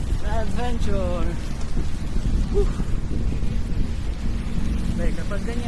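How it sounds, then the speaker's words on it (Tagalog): Heavy rain falls during a flood in Dubai, a steady dense hiss with low rumble, while a voice talks intermittently over it. "kapag ganyan na umulan na ng malakas"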